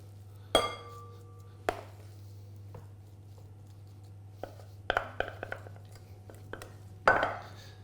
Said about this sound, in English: I'm just going to put it into a bigger bowl now.